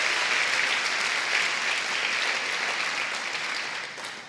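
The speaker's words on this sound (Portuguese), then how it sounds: "Pode aplaudir a ele." A church audience claps steadily through the whole stretch, dense and even, tapering slightly toward the end with no talk over it.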